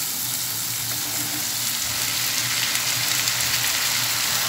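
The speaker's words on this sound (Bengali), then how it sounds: "এখন আমি এতে সেদ্ধ করে নেওয়া ভুঁড়িটা দিয়ে দিচ্ছি।" Boiled beef tripe fries in spices in a pan, a loud steady hiss and crackle with a low bubbling beneath, continuous and close.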